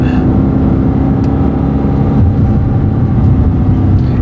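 Audi RS5 V8 engine heard from inside the car during a paddle-shift downshift, a loud steady low rumble that swells briefly as the revs rise.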